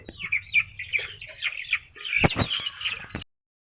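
Two-month-old chicks in a room cluck and chirp repeatedly while pecking at feed, close and fairly loud, ending abruptly.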